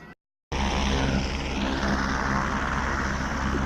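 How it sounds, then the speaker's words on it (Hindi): A helicopter landing at the Kedarnath helipad in the mountains, its engine and rotor roar loud and steady after a brief silent gap at the start. "जो हेलीकॉप्टर यहीं पे लैंड करते हैं।"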